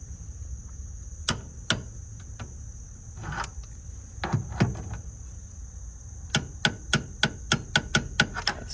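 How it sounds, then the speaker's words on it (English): Torque wrench clicking as bolts are tightened during a Fujitsu condenser swap: a few sharp, isolated clicks early on, then a quick run of evenly spaced clicks near the end, set against a steady high electrical whine. "I'm gonna tighten each of them until we get that click"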